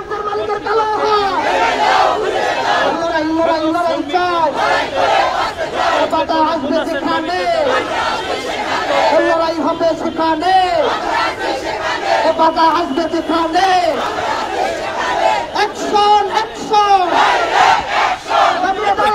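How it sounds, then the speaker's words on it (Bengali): Garment factory workers' leaders chant protest slogans at a street rally over unpaid wages, a loud crowd of voices shouting in rhythmic call-and-response waves throughout. "এখানে স্লোগান দিচ্ছেন শ্রমিক নেতারা"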